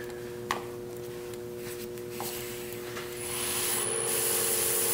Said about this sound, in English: Kind of buff that off a little bit.